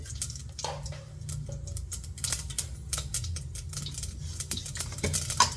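Mustard seeds crackle and pop in two spoons of hot oil in a pan for tempering, a dense run of sharp sizzling ticks over a steady frying hiss, close and moderately loud.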